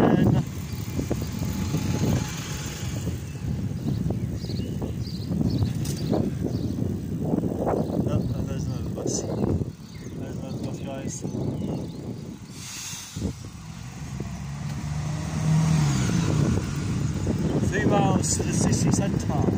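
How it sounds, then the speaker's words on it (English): Passing a bus on a road on the way to the city centre: a continuous roaring hiss of traffic and wind with surging swells, a sharp hissing burst near the middle, and an engine rumble building toward the end. "Just passing the bus once again."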